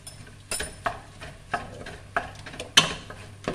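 Ground beef marinara with chili powder being stirred in a pan, a spoon scraping and clinking at intervals over a soft sizzle, close and alone without talk.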